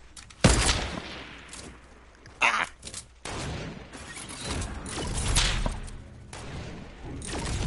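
Gunfire in Fortnite squad mode: sharp, loud bursts of shots arriving in irregular clusters, close and punchy, with brief whooshes and thuds between them and little talk.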